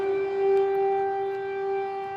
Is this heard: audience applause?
no